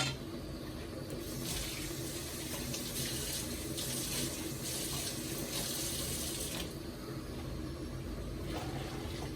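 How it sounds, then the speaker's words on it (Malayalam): Water running and pouring into a container to rinse it while making rajma dal curry, a steady broadband splashing stream lasting throughout at moderate level with no voices. "കുറച്ച് വെള്ളം കൂടെ കഴുകി ഒഴിക്കാം"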